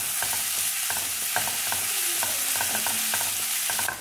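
Crushed ginger and garlic frying in hot oil in a pan give off a loud, steady sizzle, broken by repeated clatters from a stirring spoon throughout. No one speaks.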